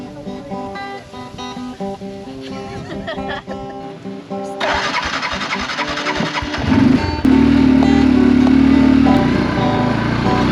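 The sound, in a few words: Yamaha ATV engine running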